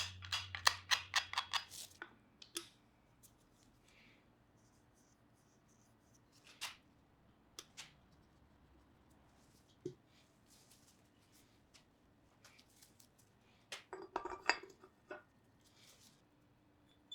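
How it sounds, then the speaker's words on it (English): A tool scrapes not-yet-hardened paint off a restored metal vice in short, scratchy strokes, with a quick cluster at the start and scattered single scrapes after, all close and fairly faint in a quiet room. "it's easy enough to scrape them off as the paint hasn't fully hardened"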